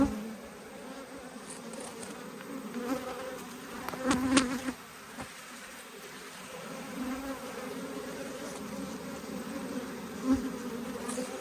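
Carniolan and Italian honey bees swarm around an open hive, a continuous droning hum with individual bees buzzing past close by, swelling loudest for a moment midway before settling back to a steady outdoor buzz.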